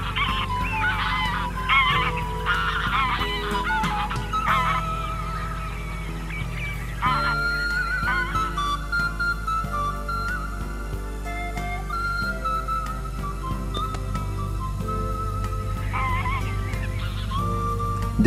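Geese honk at a working duck decoy in Piaam during winter, with repeated overlapping calls that are loud and fairly close. The honking comes in busy bursts with few pauses and runs for the whole stretch.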